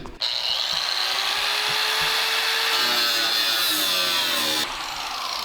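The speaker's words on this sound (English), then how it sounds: "So I'm trimming the skin, the top part off first. And you're hearing it bog down as I try to turn the blade" A power saw cuts through the sheet-metal skin of a car hood, a loud continuous high whine whose pitch sags as the blade bogs down, then drops off near the end.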